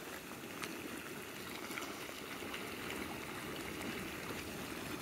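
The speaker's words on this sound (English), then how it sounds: "This is a boiling mud pot." A boiling mud pot bubbles and gurgles in a continuous, soft churning of thick liquid, heard faintly at a distance without talk.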